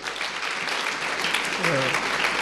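A church congregation bursts into sustained applause with some cheering during a worship service; dense clapping fills the space while a voice calls out briefly midway.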